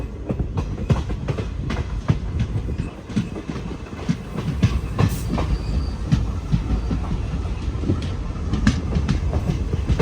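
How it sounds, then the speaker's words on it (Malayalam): A passenger train on the Cheruvathur to Mangaluru route pulls into Nileshwaram railway station, its carriages clattering steadily over the rails with rhythmic clicks and rumble, loud and continuous. "ആറ് 20 ട്രെയിൻ അങ്ങനെ നീലേശ്വരം റെയിൽവേ സ്റ്റേഷനിലേക്ക് ഇതാ എത്തിക്കൊണ്ടിരിക്കുകയാണ്"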